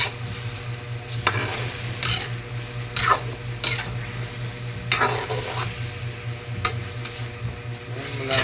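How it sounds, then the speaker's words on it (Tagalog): Chicken curry ingredients frying in hot oil, a steady sizzle under repeated scraping stirs of a utensil against the pan, several strokes spaced a second or so apart, close up with no talking. "nakulo na guys nakulo na sa mantika guys"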